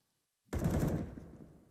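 AK rifle fire in a professional CS:GO match, a sudden close burst of rapid automatic shots after silence, loud and tapering off.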